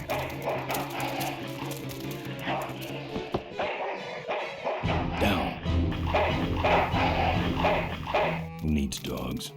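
A dog barks in the Full Throttle Remastered video game, short barks and yips mixed with thuds, game music and a voice speaking over the scene.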